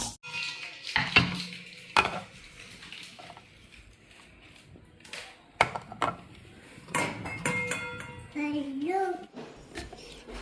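Whole spices and poppy seeds dry roasting in a pan for mutton curry, with intermittent metal clinks and scraping of a spoon against the pan, sharp knocks at irregular intervals, and faint background voices.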